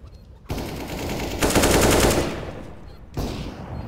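P90 submachine gun fire in a first-person shooter, Counter-Strike style, sounds as loud rapid bursts with fast rattling repetition, separated by brief pauses.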